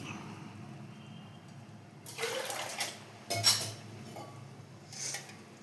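Water pours in short splashing bursts into a pan of fish curry, with a clink of utensils and a quiet simmer between pours.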